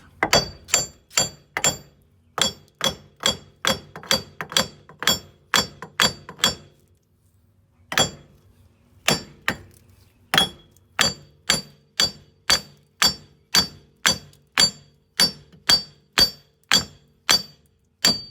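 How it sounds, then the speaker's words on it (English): Steady hammer blows driving out a front wheel part during an ABS sensor repair, sharp metallic strikes in an even rhythm, about thirty in all with one short pause partway through, close and loud. "Hammer this one out."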